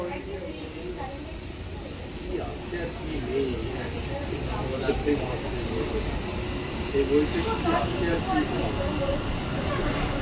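A Kolkata metro train running, with a steady rumble and hiss throughout and faint chatter from passengers in the car.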